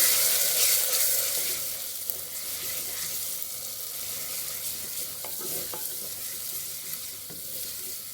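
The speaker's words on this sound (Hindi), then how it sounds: "अब हम लहसुन को भी थोड़ा सा फ्राई कर लेंगे प्याज के साथ ही" Garlic and onion sizzle steadily in hot oil, a close, continuous frying hiss with a few soft stirring scrapes and clicks.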